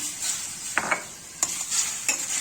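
A hamburger sauce seasoned with black pepper, salt and sugar sizzles in a pan, making a steady close hiss with a few short spoon scrapes and clicks against the pan.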